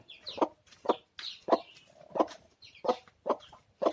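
Chickens cluck in short, repeated bursts, about eight distinct calls spaced evenly, close by with quiet gaps between them.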